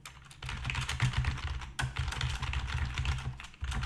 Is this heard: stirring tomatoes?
no